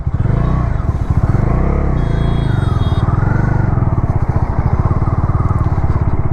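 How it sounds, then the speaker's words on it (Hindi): Bajaj Dominar 400 twin-cylinder motorcycle exhaust while riding: a steady, loud, pulsing engine drone from close by that runs throughout with a slight rise in revs, over road rumble and wind. "साउंड मज़ा आ रहा है भाई एग्जॉस्ट का, 2 सिलेंडर साउंड दिया तो देख ले, सुनने में भी अच्छा लग रहा है"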